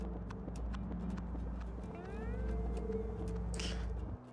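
Horse hooves clip-clop in a steady, even rhythm in the SpongeBob Cosmic Shake video game, played over continuous background game music with a short airy burst near the end.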